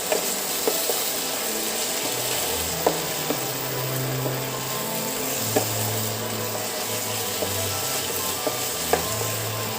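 Pav bhaji vegetables fry in a pan after salt goes in, giving a steady close sizzle. Occasional clicks and scrapes of stirring sound over it, and there is no talking.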